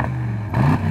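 Aston Martin DBX exhaust in sports mode with valves open, a low rumble that swells into a louder, throatier rev halfway through, close and alone.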